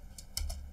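A few quick keystrokes on a computer keyboard while entering a disk-management command, brief and close with no speech.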